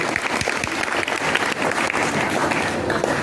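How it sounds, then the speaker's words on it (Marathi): Loud, dense applause from an audience at a Marathi children's literature convention, steady clapping filling the whole stretch with no break. "जोरदार टाळ्या यासाठी आपल्याला दिला पाहिजे"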